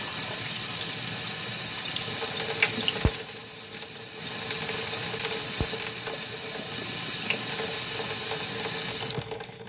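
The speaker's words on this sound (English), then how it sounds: "you're just Gonna rinse out your hand sanitizer bottle until there's no soap left in there and it's just water" Tap water rinses out a hand sanitizer bottle at a sink, a steady hiss of running water with occasional sharp clicks and knocks from the bottle, close and moderately quiet.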